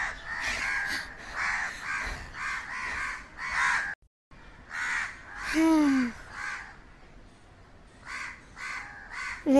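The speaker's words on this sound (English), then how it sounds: "So many crows." Several crows caw loudly and repeatedly near a nest, in bursts of harsh calls with a short pause midway, alone without speech.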